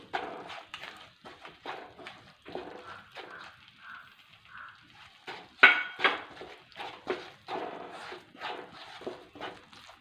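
A spoon scrapes and taps irregularly against a hot pan while semolina is stirred, giving soft, close clinking strokes at a steady kitchen pace.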